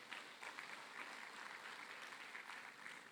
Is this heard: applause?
yes